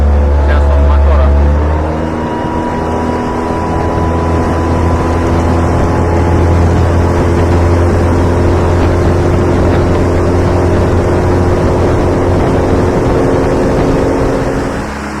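Outboard motorboat engine runs steadily at close range while the boat manoeuvres among bushes on a wild island lake, a loud continuous drone with harmonic hum that dips briefly near the start then holds.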